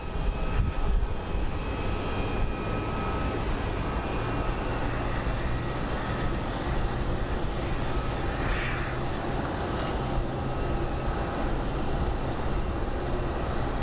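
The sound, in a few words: United flight airplane landing at Phoenix Sky Harbor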